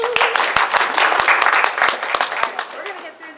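An audience at a university convocation claps with a dense, steady patter of hands that fades a little toward the end, and a voice speaks faintly underneath.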